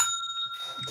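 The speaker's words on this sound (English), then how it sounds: "I rang the bell." A small bell, like a bicycle bell, rings once at close range during a podcast recording, its bright ringing tones sustaining and fading over about a second.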